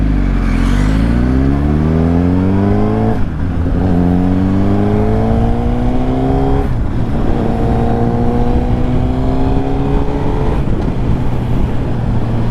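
A Suzuki GSX-R1000 sport bike engine revs repeatedly close by, each blip climbing in pitch and dropping back to a steady idle, four or five rises in a row with no one talking.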